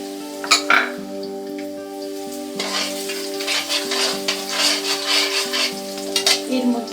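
Chopped garlic and ginger frying in hot oil in a pan for a Bengali fish head dish, giving a steady close sizzle with stirring scrapes and a few utensil clinks.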